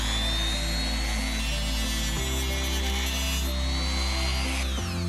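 A Dremel rotary tool cuts through a plastic piece from an HO scale diner model kit, giving a continuous loud, high-pitched whine that shifts pitch as the load changes, with a brief dip near the end.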